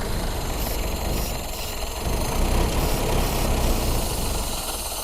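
A Ford Model A engine idles steadily while fogging oil is sprayed into its carburetor, giving a continuous rough, rumbling running sound with a broad hissy wash over it and a slight rise in level midway, with no talk.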